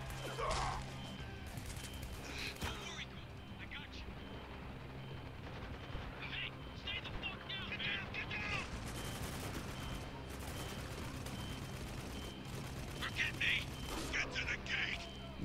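Rifle gunfire from the shooter game Spec Ops: The Line, with repeated bursts and shots crackling through a dense, loud battle mix across the whole stretch; someone talks over part of it.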